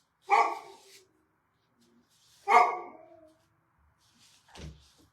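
A pet dog named Snoopy, spooked and restless at home, gives two sharp separate barks a couple of seconds apart, followed by a softer yip and shuffling close by.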